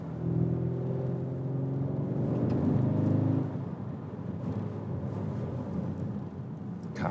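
Skoda Octavia vRS 230 sedan from 2017 with its engine note steady and up close while driving on a winter road, a smooth low rumble that rises slightly before easing into a continuous cabin drone.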